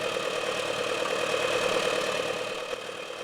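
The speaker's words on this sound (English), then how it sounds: "And she's out on her tractor." A farm tractor runs steadily while turning hay in a field, a continuous mid-pitched engine drone with a slight rough knock, heard from a moderate distance with no voices.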